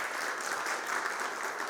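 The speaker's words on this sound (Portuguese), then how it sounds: "Uma salva de palmas para nós." A brief burst of applause from an audience at a business talk, steady clapping for a couple of seconds.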